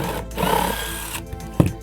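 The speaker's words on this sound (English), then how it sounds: "got my impact drill, got the drill bit for it" An impact driver removing a screw from a seat whirs loudly up close, a sustained buzzing, rattling motor run that cuts off, followed by a couple of sharp knocks.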